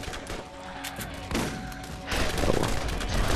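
Rapid gunfire from the shooter video game Borderlands, with overlapping bursts and a heavier blast near the end, mixed with game effects and faint talk underneath.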